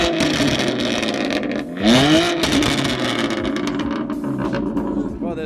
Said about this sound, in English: this is with the valves closed. Damn, that shit's still loud. Even with the valves closed.